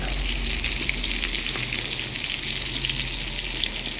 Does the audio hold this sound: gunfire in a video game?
no